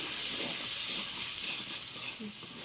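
Biryani masala and chilli powder frying in a pan, a dense, even sizzle close by that fades slightly toward the end, with no voices.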